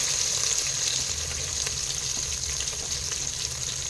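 Thinly sliced onions frying in a pan for mushroom biryani give a steady, bright sizzle with a close, continuous hiss and faint crackles, with no talking.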